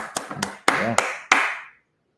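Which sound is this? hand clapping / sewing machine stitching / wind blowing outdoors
hand clapping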